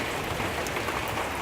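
Heavy rain shower falling on a rainy Christmas day, a dense, even hiss of raindrops striking surfaces, loud and steady throughout with no voices.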